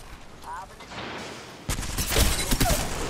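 Loud rapid gunfire from a weapon in Apex Legends erupts partway through and keeps hammering in close bursts to the end, after quieter game noise, with a player's voice in the mix.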